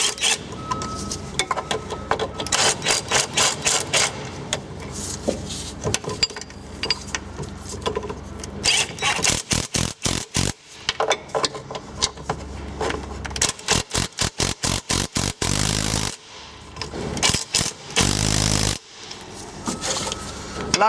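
Impact wrench hammering on bolts of a worn 1967 VW Beetle during a steering box change, in rapid rattling bursts of varying length separated by short pauses, loud and close.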